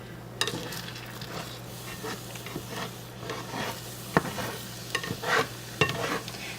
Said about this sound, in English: let it fry there for a bit, and then I'll move it around with the spatula, make sure the egg's all cooked